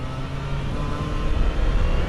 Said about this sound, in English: it doesn't misfire and chug, it idles really smooth